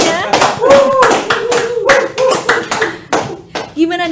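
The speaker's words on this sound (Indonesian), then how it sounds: "Boleh tepuk tangannya?" A studio audience on a tax podcast claps in quick bursts at the show's opening, while voices speak over the applause.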